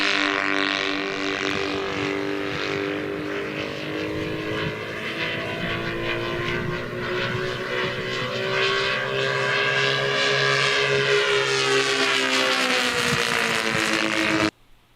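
RC model airplane with a propeller engine flying, a loud, continuous buzzing whine with shifting pitch as it passes, cutting off abruptly at the end.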